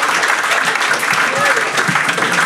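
A dense, loud wave of audience applause at a Swedish comedy roast battle, many hands clapping steadily with crowd noise mixed in and no let-up.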